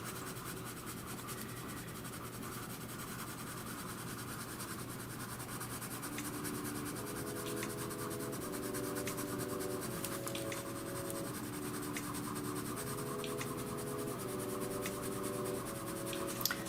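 Coloured pencils shade gently across paper, building up layers with a soft, continuous scratchy rubbing heard up close, growing slightly busier partway through, with no talking.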